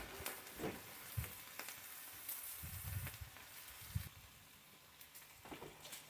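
Bacon and eggs fry in a pan on a back porch, giving a soft, steady sizzle with scattered crackles and pops, faint and continuous throughout.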